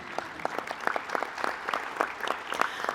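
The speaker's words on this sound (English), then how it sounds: "yes, that's a round of applause" An audience at a city's state-of-the-city address gives a brief round of applause, the claps fairly distinct and rhythmic but quiet and somewhat distant.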